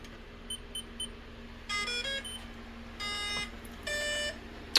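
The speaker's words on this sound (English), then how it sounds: "All the beeps of all the ESCs and motors when you turn it on." A Tamiya 1/14 Grand Hauler RC hydraulic dump truck's ESCs and motors power on with a few short electronic beep sequences, small chirps followed by three clustered tonal bursts, over a low steady hum, fairly quiet.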